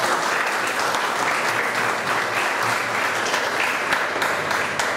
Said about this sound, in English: So big round of applause for the entire squad.